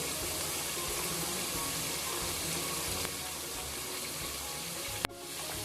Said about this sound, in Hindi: अब इनको अच्छे से भून लेते हैं।